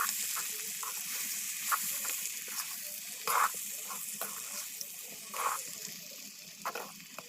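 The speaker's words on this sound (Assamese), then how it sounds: "এতিয়া মই আৰু অকণ ভাজি ল'ম" Duck and pumpkin curry with crushed cardamom fries in a pan, giving a quiet, steady sizzle with occasional louder bursts and soft stirring scrapes.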